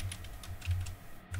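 Fast, light clicking of keys on a computer keyboard, a quick run of close taps with a brief pause near the end.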